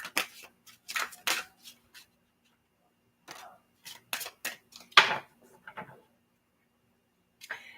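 Tarot cards being shuffled by hand in quick, crisp bursts of riffling and flicking, with short pauses between the rounds of shuffling and a last brief flick at the end.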